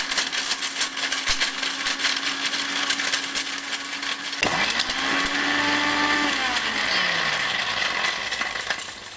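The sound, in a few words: Smith mixer grinder blending tile stone in a jar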